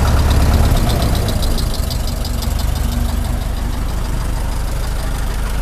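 A stock 1913 Ford Model T engine runs steadily on magneto, a loud, close, rhythmic chugging idle that holds even throughout.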